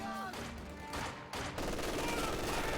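An MG42 machine gun fires in Company of Heroes 2, with dense rattling bursts and battlefield gunfire layered throughout, fairly loud and continuous with short breaks.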